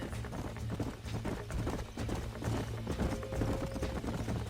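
Rapid hoofbeats of horses galloping in the video game Red Dead Redemption, a steady rhythmic drumming with game-style background sound, continuous and fairly loud throughout.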